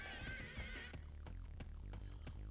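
A horse whinnies in Dynasty Warriors 3, a faint, high neigh up front followed by rhythmic thuds of game action, with no one talking.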